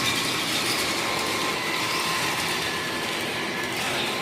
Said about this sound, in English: I'm going to do a close-up video of this train.